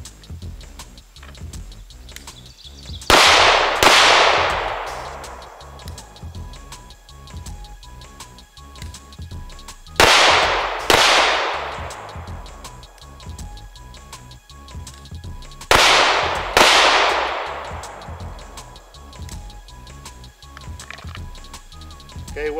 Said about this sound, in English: I'm going to put 2 rounds into the first target